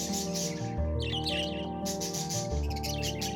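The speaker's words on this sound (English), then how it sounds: "the Congo grey parrot stands out with its dark grey feathers and signature red tail" Congo grey parrot with dark grey feathers and a red tail, calling in the wild: a run of clear whistles, chirps and harsh squawks, close and loud over a steady background of insects and birds.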